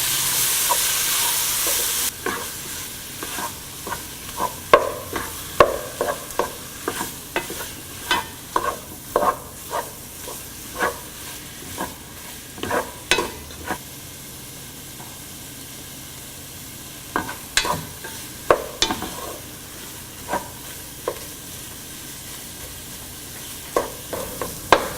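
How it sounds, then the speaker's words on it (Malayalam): Chopped tomatoes sauté in a pan for mutton curry, with a low sizzle under repeated close spatula knocks and scrapes that come in uneven bursts throughout. "ഇതിലോട്ട് കട്ട് ചെയ്ത് വെച്ചിരിക്കുന്ന ടൊമാറ്റോ ഇട്ട് നന്നായി സോഫ്റ്റ് ആവുന്നത് വരെ മിക്സ് ചെയ്ത് വഴറ്റിയെടുക്കുക"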